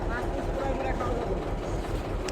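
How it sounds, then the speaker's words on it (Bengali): A small trawler boat's engine runs with a steady, close, low rumbling drone that holds evenly for the whole moment. "ইঞ্জিন চালু হয়ে গেছে আমাদের।"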